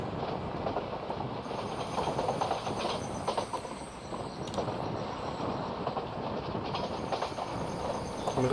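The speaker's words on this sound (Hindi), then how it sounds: "मुझे ऐसा लग रहा है ट्रेन आ रही है" A Kerala-route Jan Shatabdi Express, Kozhikode to Trivandrum, rolls in within a train simulator game, giving a steady, continuous rumble of rail cars and wheels that holds at an even loudness throughout, with no talking.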